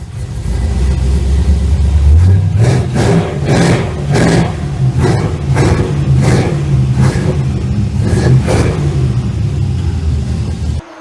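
A 1965 Chevrolet C10 pickup engine idles with a loud, steady rumble close by, pulsing with uneven rhythmic knocks and swells throughout, running alone without talk.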